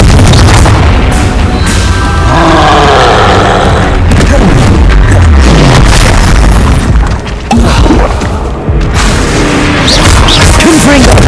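Confringo blasting-spell explosions in Hogwarts Legacy on PS5, a series of loud booming bursts and crashes layered over dense game noise, with a voice shouting spell names between them.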